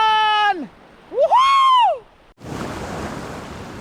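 Sea waves wash against a secluded beach at Khavane on the Konkan coast, a steady broadband roar that rises in the second half after a few sweeping tonal calls ring out over a quieter start.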